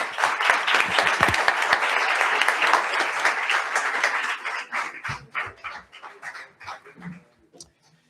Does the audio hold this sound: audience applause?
yes